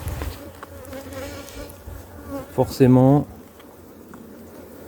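Honeybees buzz around a beehive in a steady, soft, continuous hum, while someone speaks a short word in French partway through.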